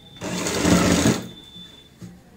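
A sewing machine stitches a kurti in a single close burst of rapid whirring lasting about a second, then stops. A faint brief tap follows, with no speech.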